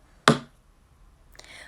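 A pencil is tapped once on a classroom desk as a signal, a single sharp, close click that stands alone before a voice begins faintly at the end.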